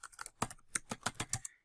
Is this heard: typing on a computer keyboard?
yes